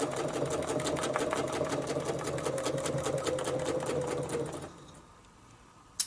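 A sewing machine stitches a quilt in a steady, fast whirring run close by for over four seconds, then stops, leaving quiet room tone and a small click at the end.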